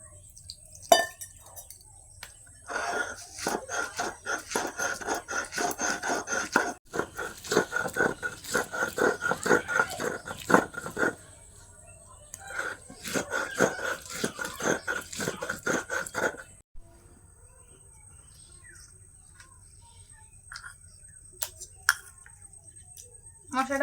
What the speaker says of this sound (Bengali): একসঙ্গে বেটে নেব মশলাটা।